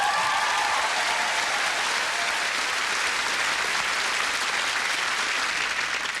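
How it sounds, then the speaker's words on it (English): Loud, sustained audience applause with cheering fills a comedy club as a comedian is welcomed onto the stage, a dense steady roar of clapping lasting throughout. "Put your hands together, scream applaud, go mad, and welcome on the stage, Silky!"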